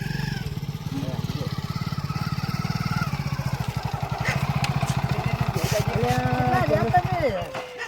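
A motorcycle engine putters steadily nearby in a fast, even rhythm, then revs up and winds down as it pulls in. Voices talk over it.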